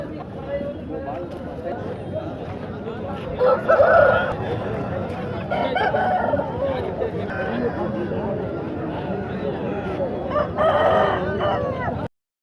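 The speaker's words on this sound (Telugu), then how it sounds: "ఈ వారం వచ్చిన కోళ్ళు పీలేరు మార్కెట్" Chickens and roosters at the Pileru Sunday market crow and cluck among the birds for sale, under steady crowd chatter and nearby talking.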